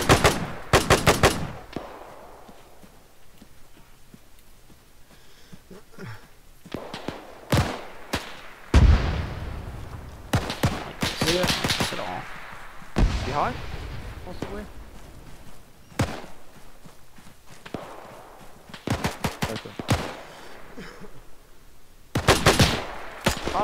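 Bursts of automatic and single gunfire crack out in the ArmA 3 video game, loud sharp volleys spaced between quieter stretches, with distant shots in the gaps.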